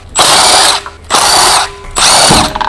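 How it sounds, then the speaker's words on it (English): Large electric impact wrench with a 19mm long socket removing rear wheel lug nuts on a Ford Focus ST, three loud, close, buzzing hammering bursts of under a second each, separated by short pauses. "Using the large 19mm long socket with the large electric impact wrench, remove the rear wheel lug nuts."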